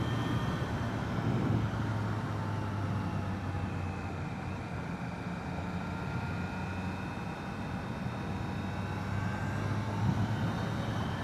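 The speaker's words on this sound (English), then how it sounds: "the bike's warming up a bit, is actually really settling in quite nicely" A Triumph Trident 660 motorcycle, ridden at an easy pace, gives a steady engine drone mixed with wind rush, continuous and moderately loud without changes in pitch.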